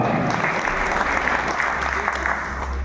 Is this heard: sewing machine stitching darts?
no